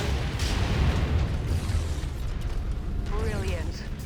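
Explosions from incoming missiles in MechWarrior 5, loud rumbling blasts and bursts over a heavy low mechanical drone, with a voice speaking over part of it.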